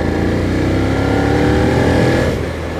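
A Suzuki SV650 V-twin motorcycle engine revs loud and close, a steady throbbing drone that holds throughout and eases slightly near the end, with no voices.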